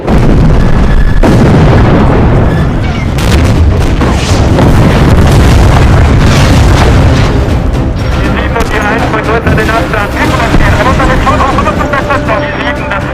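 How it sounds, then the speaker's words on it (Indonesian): Soviet artillery bombarding German troops in a war film, a loud continuous barrage of booms and blasts layered with dense battle noise and voices, with no quiet gaps. "artileri Uni Soviet mulai menyerang tentara Jerman"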